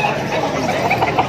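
A gamecock rooster clucks in short, close, repeated bursts amid the bustle of a crowded pet market in Malabon.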